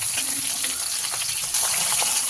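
Raw green banana pieces frying in hot oil, a bright steady sizzle with soft bubbling crackle, close and continuous for a couple of seconds, swelling slightly louder near the end.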